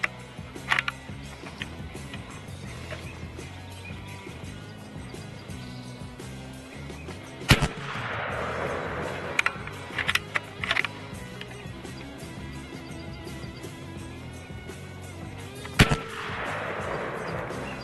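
A .30 caliber PCP airgun fired on an outdoor range, with sharp isolated shots spaced several seconds apart over a steady low background hum, each report crisp and brief, with a few lighter clicks between.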